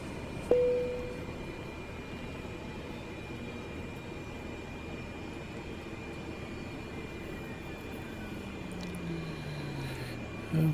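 A Cessna 208B turboprop engine shuts down in Microsoft Flight Simulator 2020, a steady, fairly quiet engine drone whose pitch slowly sinks as it spools down over the last few seconds.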